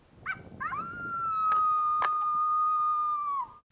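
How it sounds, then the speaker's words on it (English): A female coyote invitation howl from an electronic call on a Kansas hunt: a short yip-like opening rises into a long, steady, clear howl that holds, then drops off at the end, loud and close outdoors. "I'm playing a female invitation howl on the alpha dog"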